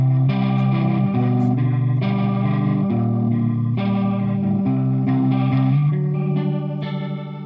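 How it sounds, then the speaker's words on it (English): Electric guitar run through a large Leslie rotary-speaker simulator pedal, sustained chords swirling with a warbling, chorus-like shimmer and slight grit, played continuously and loud, fading slightly at the end, with no talk. "This to me is the best Leslie simulator, but it's really noisy and really big"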